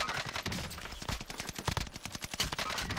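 Rapid bursts of gunfire ring out in a Warzone battle, dense overlapping shots and volleys with sharp cracks crowding the whole stretch, loud and close with no talk.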